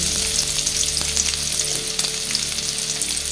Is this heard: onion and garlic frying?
yes